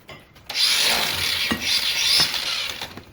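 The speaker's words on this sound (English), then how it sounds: "I'm going to use the angle grinder with the wire wheel." Angle grinder fitted with a wire wheel scrubbing an outboard gearcase from a 2003 Johnson/Evinrude 90 HP V4, starting abruptly after a brief pause and grinding steadily and loudly close by with slight surges, no voices.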